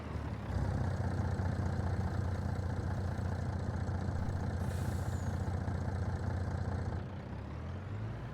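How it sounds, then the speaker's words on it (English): A modern engine swapped into a farm truck runs rough at idle, a steady low throbbing drone that holds for several seconds before easing slightly, with no talk over it. "The way that engine is running rough sounding"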